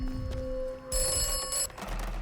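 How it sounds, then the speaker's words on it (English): A telephone rings in the video game Atomfall, bright repeated electronic bell tones that start, break off and return, heard alone without speech. "See if the phone rings. It does."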